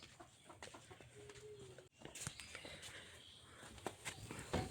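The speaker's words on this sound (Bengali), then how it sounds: "মুরগিগুলো ছাড়ি নেই এখন ছেড়ে দেই" Chickens cluck softly on a foggy morning before being let out, faint scattered calls and light rustling with some background noise, fairly quiet and distant.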